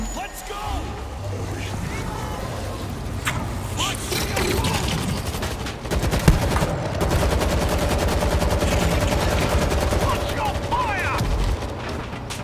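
Sustained machine-gun fire and rapid rifle bursts ring out nonstop in World War Z's Jerusalem episode, with dense rattling volleys and occasional louder booms running for over twelve seconds beneath game ambience.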